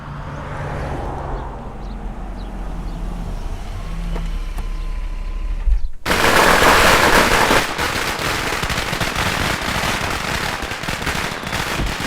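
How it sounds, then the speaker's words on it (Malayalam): A rumbling background with engine noise and a faint beeping gives way halfway to a dense, loud barrage of rapid crackling bursts from a string of firecrackers set off as a band stops playing. "ഏത് ഭ്രാന്തരാണ് ഇവിടെ പടക്കം പൊട്ടിക്കുന്നത്?"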